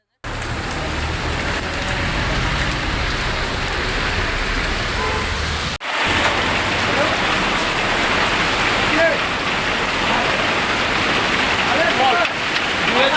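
Hail pelting down across streets in Guwahati's Bhangagarh and Rajgarh Road areas, a dense, continuous roar of pattering impacts that stays loud for the whole stretch, with a brief break midway.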